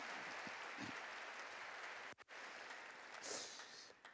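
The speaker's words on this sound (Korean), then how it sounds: "우리 감사의 박수를 보냅시다." Applause of thanks from a church congregation during a sermon service, a faint, distant wash of many hands clapping that carries on throughout, with a brief dip midway and a slight swell near the end.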